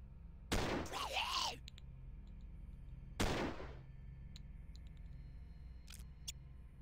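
Two sharp, loud single gunshots from a turn-based sci-fi firefight in Stellar Tactics, a few seconds apart, each followed by a short ringing tail, with quiet clicks and low background hum between.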